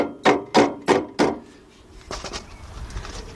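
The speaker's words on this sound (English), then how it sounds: "I'm gonna have to tap it down a little bit. Use the rubber end." Four sharp, evenly spaced knocks from a rubber-ended mallet tapping a front right strut assembly into place on a 2003 Lincoln Navigator, loud and close, followed by quieter shuffling handling noise.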